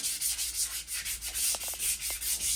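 Steady rhythmic rubbing on the burned wooden handle of an unsanded axe, with repeated hissing strokes about five times a second, close and fairly quiet, with no talk.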